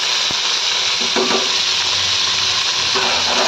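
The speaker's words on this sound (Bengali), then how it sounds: "গোটা গোটা বেগুনগুলো তেলের মধ্যে দিয়েছি একটু ঢাকা দিয়ে দেবো" Whole eggplants, salted and turmeric-coated, frying in hot oil in a home kitchen, giving a steady close sizzle throughout with a few light stirring knocks and no talk.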